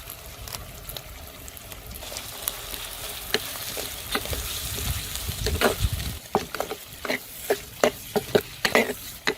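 Onions and chopped green chilies sauté in a pan for a mutton curry, giving a steady loud sizzle. Repeated scraping stir strokes grow sharper and more rhythmic toward the end, with no talking.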